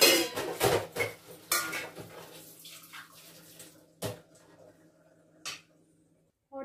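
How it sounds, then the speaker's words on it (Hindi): Dishes, pots and utensils being washed in a home kitchen, close clinking and clattering with running water, several sharp knocks coming in bursts, then sparser clanks near the end. "और देखो फिर हो गए बर्तन मेरे, इन्हें पहले वॉश कर लेती हूँ।"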